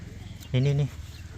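A chicken gives a single short, loud, nasal cluck close by, standing out clearly from a low rustling background.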